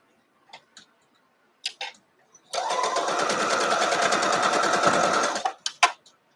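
A sewing machine stitching a quilt block runs steadily for about three seconds with a fast, even mechanical patter, close and alone, framed by a few soft ticks and clicks before and after.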